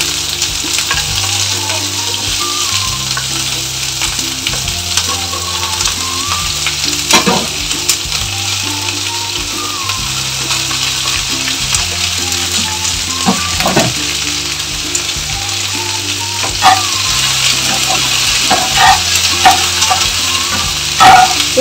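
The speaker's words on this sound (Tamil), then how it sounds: "வெங்காயம் வெண்டைக்காய் கருவேப்பிலை போட்டு கிளறணும்." Onion, okra and curry leaves fry loudly in a pan, with constant sizzling and repeated scraping stirs throughout and no talk.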